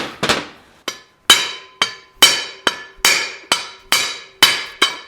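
A sledgehammer strikes a brake hub on a 1941 Mercury spindle about a dozen times, each blow a sharp metallic clang with a ringing decay, spaced at roughly half-second intervals.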